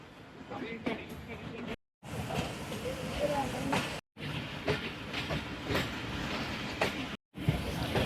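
A passenger train pulling out of Badomalli station after a two-minute stop and running along the rails, a steady close rumble with rhythmic clatter and brief gaps, a voice talking over it.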